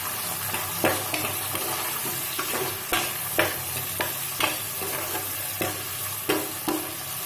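Onions sauté in a pan for a chicken gravy, giving a continuous hiss. A spatula repeatedly scrapes and knocks against the metal in sharp, irregular strokes, loud and close. No voices are present.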